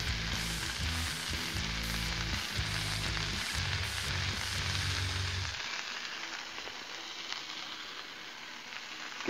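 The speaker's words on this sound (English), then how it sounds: "We'll put down some butter." Butter sizzling on a hot Blackstone griddle: a steady, close frying crackle that holds throughout while a low background hum drops away partway.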